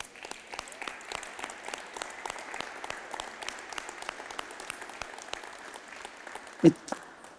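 A church congregation at a communion service claps steadily and fairly quietly, a sustained patter of hands with a few sharper individual claps standing out near the end.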